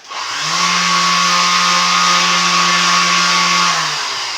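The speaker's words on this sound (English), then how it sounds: "When you're using a powered sander, you want to make sure you keep it moving all the time." Powered sander running on wood pieces, a loud steady motor drone that starts abruptly, holds constant for about four seconds close to the microphone, then winds down.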